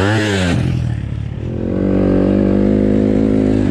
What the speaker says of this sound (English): No shirt, going jumps on dirt bikes.